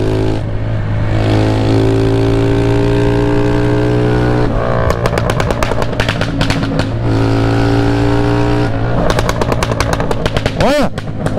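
A Honda Fan 150 motorcycle with a stripped-down build revs hard and loud, its steady engine drone breaking repeatedly into rapid machine-gun-like bursts of exhaust pops and stuttering rev-limiter cuts, ending in a sharp rising whine.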